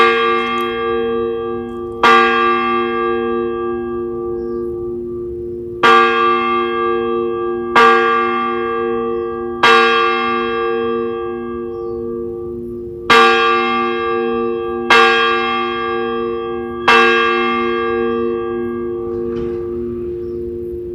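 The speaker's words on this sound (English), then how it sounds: "we offer them a ringing of the bell as the last alarm" A single memorial bell tolls slowly and repeatedly at a fire department 9/11 ceremony, each loud strike ringing out and fading before the next, at uneven intervals.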